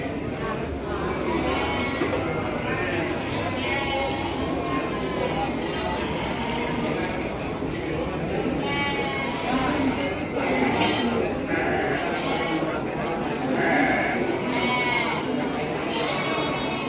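Fighting sheep (domba tangkas) bleat repeatedly at a busy sheep market, amid steady crowd chatter and occasional metallic clinks throughout.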